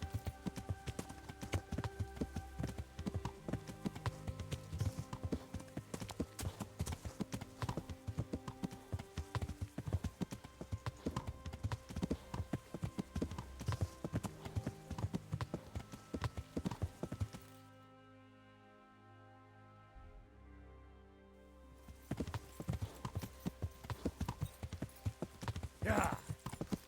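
Horse hooves clip-clop steadily and close by during a ride in Kingdom Come: Deliverance, with a voice talking over them and game sounds around. The hoofbeats stop for a few seconds near the end, then resume.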